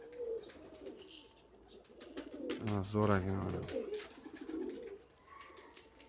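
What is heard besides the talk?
pigeons cooing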